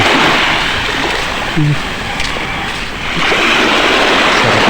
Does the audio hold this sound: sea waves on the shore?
yes